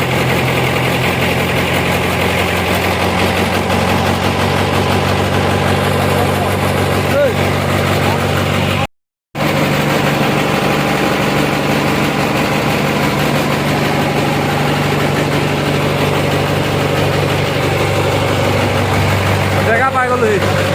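A vehicle engine idles steadily with a low, continuous rumble and vibration that runs at constant loudness throughout, broken only by a brief cut, while a voice talks faintly over it.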